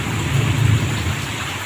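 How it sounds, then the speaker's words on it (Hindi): Heavy rain pours down over Samastipur, Bihar, a loud dense hiss with a low rumble underneath, continuous and without voices. "बिहार में शानदार बारिश हो रही है और बारिश की ज़रूरत भी थी"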